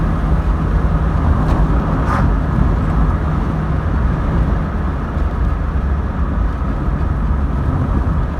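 Car driving over a rough, bumpy road, a continuous low rumble of tyres and cabin noise with a couple of faint knocks early on, heard from inside.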